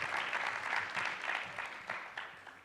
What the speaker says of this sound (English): Let's give Dr. Hildreth another round of applause.